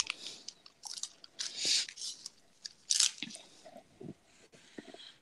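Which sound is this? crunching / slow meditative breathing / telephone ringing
crunching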